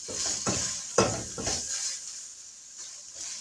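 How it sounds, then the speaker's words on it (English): Hamburger meat sizzles in a frying pan while a utensil stirs and scrapes it, several rhythmic scraping strokes over a constant crackling sizzle. "I gotta stir this hamburger meat"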